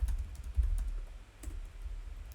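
Quiet computer keyboard typing, a handful of light scattered keystrokes over a low hum, with no one speaking.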